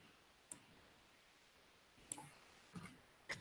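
Computer mouse clicks, four faint isolated taps spaced irregularly over quiet room hiss, the last two closer together.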